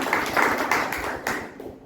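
An audience claps at a journalists' association anniversary gathering, a short burst of scattered hand claps in uneven rhythm that thins out and fades within two seconds.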